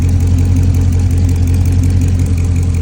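A Chrysler SRT8 with a 392 engine runs at idle, a loud, steady low drone with a faint rapid ticking from the engine bay under it, close up and with no talking.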